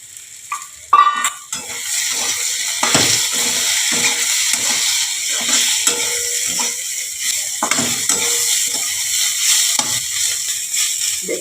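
Poppy seed paste stirred and frying in a pan with kakrol for a poppy seed dish, a loud steady sizzle under repeated scraping and clattering of a utensil against the pan.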